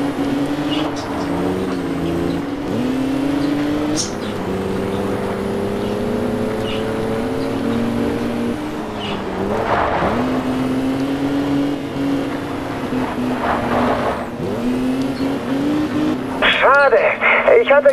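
Cars racing and overtaking in the video game Alarm für Cobra 11 Undercover, a steady loud engine drone with shifting pitch and passing swells, with a voice talking over it throughout.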